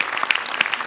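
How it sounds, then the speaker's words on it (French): Brief burst of audience applause at a healthcare conference gathering in Marseille, scattered claps ringing out under a faint murmur. "Je vous propose qu'on s'applaudisse tous."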